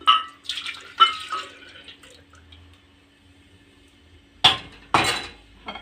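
Milk is poured from an ordinary kitchen mug into cake batter, giving a few short splashy pours and light clinks of the mug, close and separated by quiet gaps.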